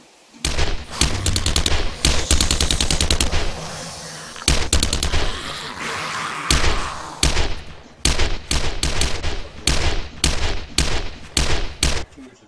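Machine gun fire in a video game comes in loud, rapid bursts of close gunshots separated by short pauses, the rattling volleys dominating the sound throughout.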